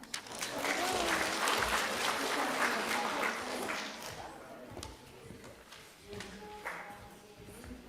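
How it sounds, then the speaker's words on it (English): Congregation applause at a Friday night Shabbat service, a broad wash of clapping that swells for several seconds, then thins and fades toward the end. "Can we offer a round of applause, everyone?"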